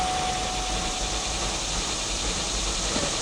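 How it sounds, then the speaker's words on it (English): A 2005 Cadillac STS with a 320 hp Northstar V8, rear-wheel drive and in limp mode with a P2119 throttle fault, idles roughly in a steady, close low hum with no voices. "Idle's still super rough"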